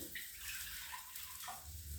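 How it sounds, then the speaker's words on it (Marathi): Water is poured into a pan of varai (barnyard millet) rice lightly roasted in a little oil: a soft, steady, faint gushing that runs on without pause. "आता त्याच्यामध्ये मी पाणी ओतणार आहे"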